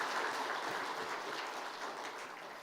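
A church congregation at a Sunday afternoon service claps together in encouragement, a soft, even wash of hands from a distance with no voices over it.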